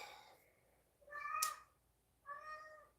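A house cat meows twice up close, a drawn-out rising call followed after a short pause by a second shorter meow, clear against a quiet room.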